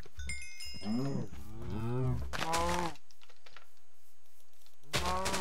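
Minecraft cows mooing in a series of low, drawn-out lows, several overlapping in the first three seconds, then a pause and one more moo near the end, close and clear with no talk.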